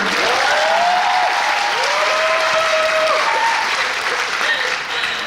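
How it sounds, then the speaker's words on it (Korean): Sustained applause from a musical theatre audience at a closing-performance curtain call, loud and dense throughout, with faint cheers and voices riding over the clapping. "박수 한 번 쳐주시면"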